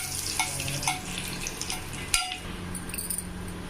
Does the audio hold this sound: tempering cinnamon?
yes